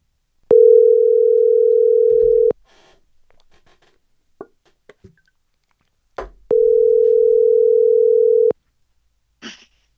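A telephone tone sounds while a call is being placed: two loud, steady, two-second tones separated by a pause with faint rustling and clicks.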